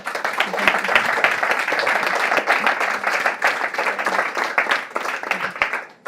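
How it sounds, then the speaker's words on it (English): Audience applause for panelists after a mental health panel discussion, a dense, sustained round of clapping from a large crowd, moderately loud and continuous for several seconds. "A big round of applause for them."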